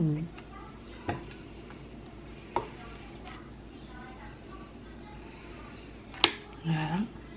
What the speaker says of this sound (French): Donc je vais en préparer une assiette pour Monsieur Evan.